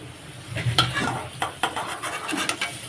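Potatoes fry in a pan with a soft, close sizzle under repeated scraping and stirring knocks of a utensil against the metal, a busy irregular rhythm with no talking.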